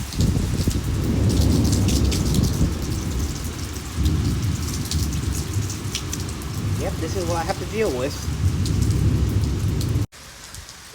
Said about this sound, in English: It got even heavier. The rain got heavier.